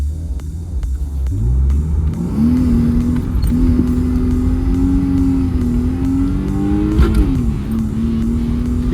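A car engine revs hard during a race, a loud continuous rising and falling drone that climbs in pitch after the first two seconds and holds steady, with no talking.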